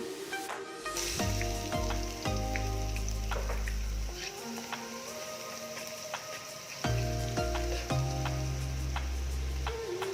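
Garlic frying in oil for laing, a continuous close crackle and sizzle with faint clinks of a utensil, steady throughout over low background tones.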